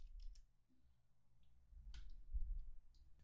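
Computer mouse clicks while grouping objects in a building facade design program, a few sharp, quiet clicks close by over a low background hum, with no talking.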